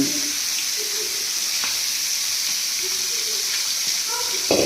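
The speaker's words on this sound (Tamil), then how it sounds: "இனி நம்ம இதை அடுத்தது சட்டி சூடான உடனே பொரிக்க போகிறோம்." A whole masala-marinated pomfret fries in a hot pan with a steady, dense sizzle and occasional faint clinks throughout.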